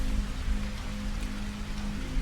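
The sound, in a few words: heavy rain falling, sound effect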